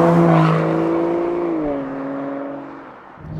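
An Aston Martin sports car engine drones loudly while driving at around 50 mph, its pitch rising and then easing as the revs change, heard from inside or close by.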